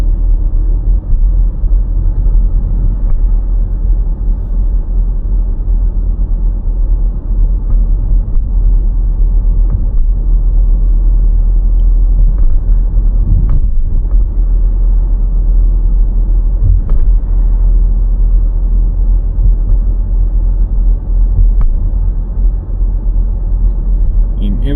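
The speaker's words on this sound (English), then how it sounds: "we will drive from the south towards the north, towards the city center basically" A car drives through Darmstadt, Germany, from Eberstadt toward the city centre, heard from inside as a loud, steady low engine and road rumble that barely changes throughout.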